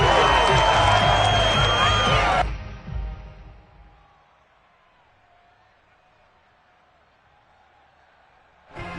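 A home crowd cheers loudly in a Madden football video game, a dense roar for about two seconds that drops off to a quiet murmur before a sudden burst at the end.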